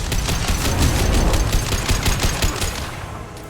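Rapid automatic gunfire in the shooter game Mass Effect 2, a dense burst of repeated shots that stays loud for about three seconds before tapering off.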